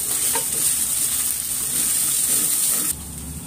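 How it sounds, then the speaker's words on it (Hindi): Cooked poha being mixed in a pan, a steady close sizzle with soft scraping stirring throughout, loud and continuous, no one speaking. "अच्छे से मिक्स कर लेंगे।"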